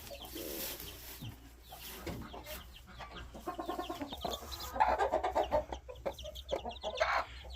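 Chickens cluck repeatedly in a backyard flock, the calls growing louder and busier toward the end, with soft rustling and background noise underneath.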